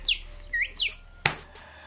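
A person imitates bird chirping with a few sharp, high whistled tweets in quick succession, close and clear, ending in one brief hard click-like note.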